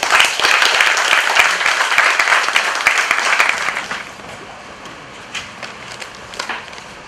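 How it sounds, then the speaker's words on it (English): Audience applause welcoming a speaker at a talk on Mumbai's development plan, a loud close burst of clapping that holds for a few seconds, then thins to scattered claps. "Please welcome the round of applause, Dr. Ramanath Sah."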